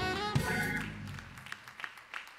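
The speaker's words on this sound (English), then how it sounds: "Let's give the Lord a hand clap of praise." Church congregation clapping hands in praise during a Sunday morning service, a loud burst of applause that quickly thins into scattered, fading claps.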